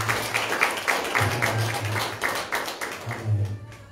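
A church congregation claps in an even, rhythmic beat, steady claps coming several times a second alongside murmuring voices and a low tone in the room.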